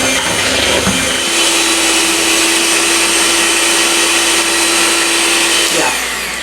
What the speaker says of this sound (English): We're going to mix that around.